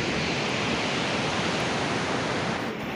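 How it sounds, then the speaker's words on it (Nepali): The Tila river, a tributary of the Karnali, roars in a gorge below the Karnali highway in Kalikot, a dense, constant rushing wash of water, loud and unbroken. "यतापट्टि तिला नदी सुसाइराखेको छ।"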